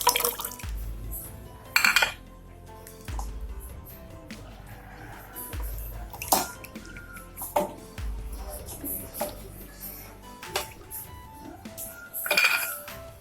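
Ginger and garlic being washed in water in a kitchen before grinding into paste for mutton biryani, with splashing, rinsing and knocks of a metal vessel repeating close by.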